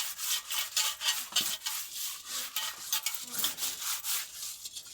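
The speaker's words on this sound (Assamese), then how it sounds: "ইমান ডাঙৰ কেৰাহী কিমান ধুই থাকিম।" A large wok being scrubbed and washed by hand, giving steady rhythmic rubbing and scraping strokes with splashy bursts, close and fairly loud, with no talking.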